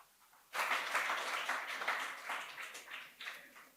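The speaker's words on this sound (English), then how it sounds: "Merci de les applaudir." An audience applauds this year's award-winning project team at an ocean conference event in Nice, dense clapping starting abruptly after a short quiet moment and holding steady with slight swells before easing off.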